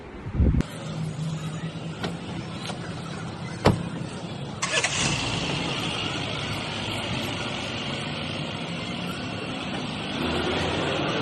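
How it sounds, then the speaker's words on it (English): A car moves through heavy city traffic in Mumbai: a steady engine and road rumble with a few sharp knocks and clicks, and the noise rises toward the end. "as usual there's a lot of traffic on the roads of Mumbai"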